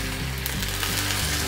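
Steady hiss and crackle of a hot pan sizzling as cognac is splashed in, loud and continuous throughout, with faint clinks underneath and no voices.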